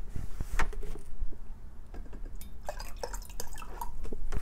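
Liquid fertilizer solution is poured into a hydroponic edible garden's net-cup reservoir, giving soft close trickles, drips and small splashes at low volume.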